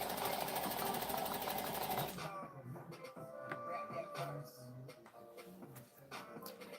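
A domestic sewing machine running fast with a steady buzzing whir for about two seconds, then stopping, followed by quieter clicks, handling sounds and faint talk nearby.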